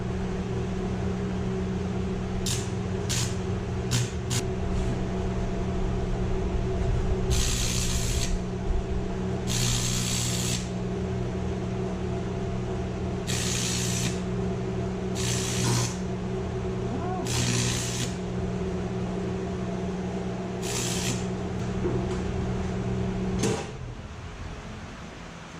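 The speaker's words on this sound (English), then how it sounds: "Just a mock weld." A stick welder with a very small rod tacks car parts together on a Camaro, a steady electrical hum broken by several short sharp crackling bursts of arcing, close and fairly loud, with no talk.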